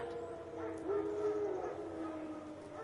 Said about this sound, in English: Wild dogs.